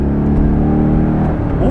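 A Chevrolet Corvette C5 with an automatic gearbox revs up under acceleration from low cruising rpm, a loud, close engine note rising steadily with a deep growl for under two seconds.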